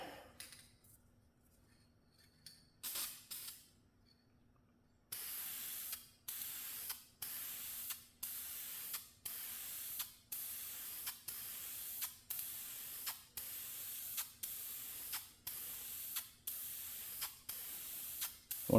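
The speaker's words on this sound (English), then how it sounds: "let's get spraying here." A spray gun lays a finish coat onto a Traditions Kentucky pistol kit in repeated short bursts, about a dozen evenly timed hissing passes after a few scattered clicks and a brief early spurt, close and loud.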